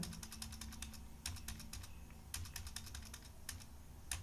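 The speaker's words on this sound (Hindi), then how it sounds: "आप देखिए यहाँ पर जैसे जैसे हम एंटर एंटर प्रेस कर रहे हैं" A computer keyboard is tapped in quick runs of crisp clicks, like repeated Enter key presses, close and clear over a low steady hum.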